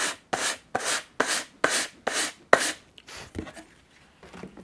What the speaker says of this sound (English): I'm just going to jump right back to sanding